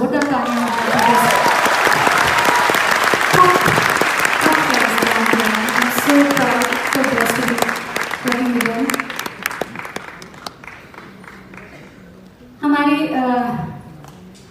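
A live concert crowd at a Mumbai symphony show claps loudly for the musicians, the applause thick over sustained musical tones before thinning out, with a brief burst of voice or melody near the end.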